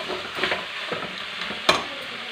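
Mutton curry being stirred in a pan, soft scraping strokes with a gentle sizzle underneath and one sharper clack of the spoon near the end.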